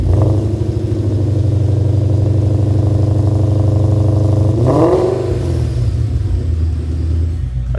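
A Ford Mustang GT V8 fitted with American Racing long tube headers idles with a loud, deep burbling rumble, then blips the throttle once into a rising rev before settling back.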